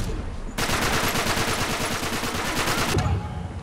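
Rapid automatic gunfire in Uncharted 3 multiplayer, a sustained burst of evenly spaced shots lasting about two and a half seconds, loud and close, with quieter ambience before and after.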